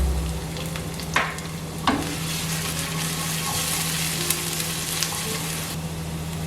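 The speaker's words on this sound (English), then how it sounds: "Now I'm gonna add garlic and Shushan pepper." Garlic and Sichuan pepper sizzling in a tablespoon of hot cooking oil for a Tibetan-seasoned stir-fried cabbage, a steady close crackling fry with a few sharp pops and the clink of stirring.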